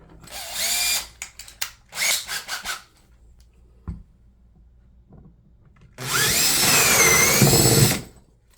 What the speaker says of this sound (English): And now I'm going to drill my 1-inch hole.